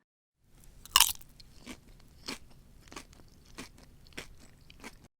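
Post Grape-Nuts cereal being chewed up close, a loud first bite followed by a steady series of dry crunches at roughly half-second intervals, with no talking.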